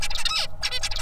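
Song of a tutor songbird in a vocal learning study, a rapid run of bright harmonic syllables with a brief gap midway, recorded close and loud against a low background hum.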